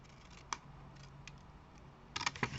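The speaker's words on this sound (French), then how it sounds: "on va prendre un ciseau. Et on va découper la partie qu'on veut plus." Scissors cut through card paper while a flip-flap greeting card is being made: a few quiet, crisp snips spaced irregularly, with a quicker cluster of cuts near the end and no talking.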